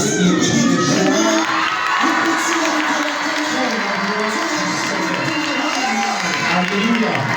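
A church congregation cheers loudly with joyful shouts, whoops and excited children's voices, a dense, steady roar of many people filling the whole stretch.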